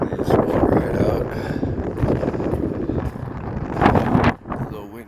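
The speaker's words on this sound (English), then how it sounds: "A little windy out. They got high winds warnings here." Strong gusty wind batters the microphone outdoors under high wind warnings, a heavy, fluctuating rumble with buffeting bursts that swell and drop, a voice briefly audible underneath.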